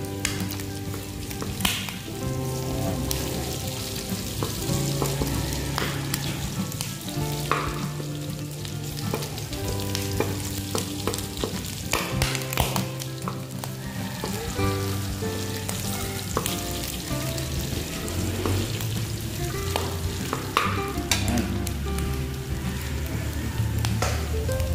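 Pork belly and garlic frying in a pan, a steady close sizzle with scattered pops and stirring scrapes throughout.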